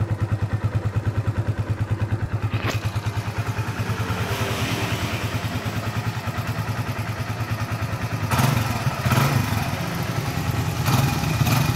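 Close, steady idle of a Kawasaki W175 TR motorcycle on its stock exhaust, a low rhythmic putter, with a couple of brief clanks and a slight throttle rise near the end.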